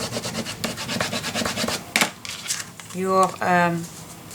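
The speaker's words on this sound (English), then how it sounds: "Burnish your glue down to the cardstock." A tool rubs and scrapes, burnishing glue down onto cardstock while a memory box is assembled. The short, close, dry rubbing strokes are followed by a brief spoken voice.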